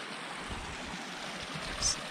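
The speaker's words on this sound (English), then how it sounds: "We're at the big water crossing above the waterfall and below the waterfall." A stream flows at a large water crossing on a mountain trail just above a waterfall, making a steady, close rushing wash of water that stays even throughout with a slight surge near the end.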